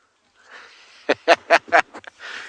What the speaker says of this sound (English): You could hear the buffalo weavers making a lot of noise.